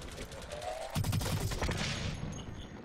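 Rapid assault rifle fire from a tactical assault rifle in the shooter game Blacklight Retribution, sustained automatic bursts close and loud with layered gameplay effects, no speech.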